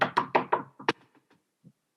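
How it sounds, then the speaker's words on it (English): Four loud, sharp knocks on a door in quick succession, followed by a softer thump and a few faint taps trailing off, heard close with no voices. "Darenth, someone's at the door."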